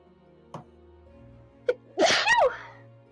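A single sharp sneeze bursts out loudly, preceded by a couple of small breathy clicks, in an otherwise quiet room.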